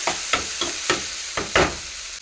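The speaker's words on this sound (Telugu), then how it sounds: "ఉల్లిపాయలు టమాటాలు అయితే బాగా వేగినాయి." Onions and tomatoes frying in a pan give a soft sizzle, with about six sharp scraping strokes from stirring spaced irregularly across it.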